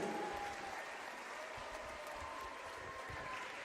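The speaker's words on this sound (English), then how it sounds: "Let's give a big rebel applause to our 2026 senior volleyball players." Applause from a high school volleyball crowd in a gym during a senior recognition at a women's varsity game, steady clapping that fills the whole stretch at moderate, somewhat distant level, with a faint whistle-like tone drifting above.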